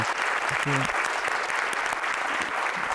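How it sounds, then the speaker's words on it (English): Audience applause for a guest at a talk event, dense steady clapping filling the room throughout, with a brief voice heard over it near the start. "can we give Matt a big round of applause first of all?"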